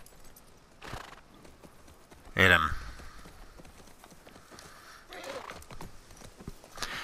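Horse in The Last of Us Part II, with steady clip-clop of hooves and a loud neigh partway through, under someone talking in Czech over the game sound.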